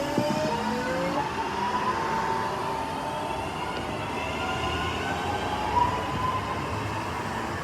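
A train passes through Bournville station with a steady rolling rumble and faint squealing tones, loud and continuous throughout, with no voices.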